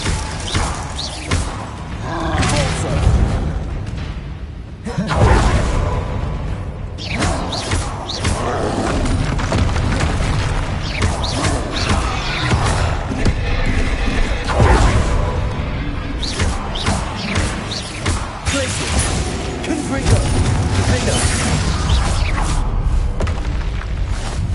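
Confringo fire spells cast in a Hogwarts Legacy battle, with repeated booming blasts and whooshing bursts over a loud, continuous combat roar and no speech.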